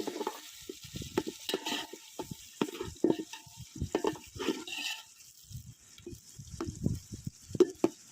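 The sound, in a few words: onions frying in a pan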